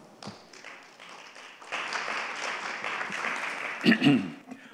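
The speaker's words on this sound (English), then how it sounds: "Please join me in welcoming Dr. Il Sa-gong to moderate the first session with a big round of applause." An audience at an international economics conference applauds to welcome a session moderator. The clapping is scattered at first, then swells into fuller applause that fills the hall from the middle onward before it fades.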